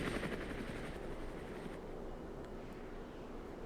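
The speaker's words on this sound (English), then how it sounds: "There is an enemy helicopter right there." A distant enemy helicopter drones in the Armored Brigade war game, its low rotor rumble blending with faint rattling gunfire and wind-like noise, fairly quiet and steady.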